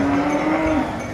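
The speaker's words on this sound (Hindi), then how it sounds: "फिर ये एक गाय है जी" A milking cow at the Gondal cattle market gives a single close, sustained moo that drops in pitch at the end, over a steady hum of market noise.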